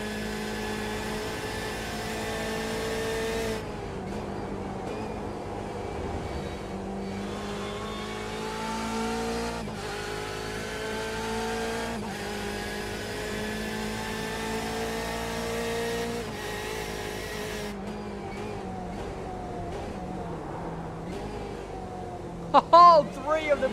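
A Corvette race car in a racing video game drones and revs at high pitch through gear changes, with other cars' engines layered in and a commentator talking over the steady engine noise throughout.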